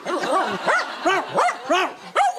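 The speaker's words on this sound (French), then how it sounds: "Oh là, calme-toi, il aboie un petit peu trop fort, hein." A small dog barks in a run of five or six sharp, yappy barks with short whines between them, close and loud, with no talk over it.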